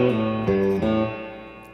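An electric guitar picks a few slow notes of a spaghetti western surf riff, with a plucked pair of notes ringing out and fading, close and clean.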